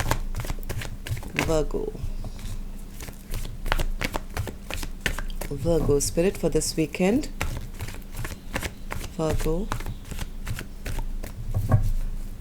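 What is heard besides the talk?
shuffling tarot cards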